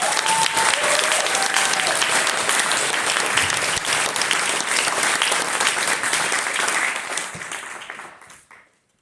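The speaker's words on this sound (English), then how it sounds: "please give up a big applause for Betty Lashgar." Large audience applauding steadily and loudly, sustained clapping that fades out near the end, with a brief voice over the start.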